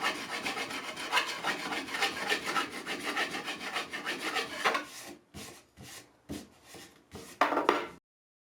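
Metal file rasping across the top of a steel T-nut set into wood, a steady scraping rhythm of strokes up close that breaks into short, separated passes toward the end.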